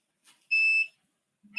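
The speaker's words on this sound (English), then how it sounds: "So let me grab the timer." A workout timer at an adult Hapkido class gives one short, shrill electronic beep, and a second beep starts right at the end. The beeps are clear and nearby, with no voices.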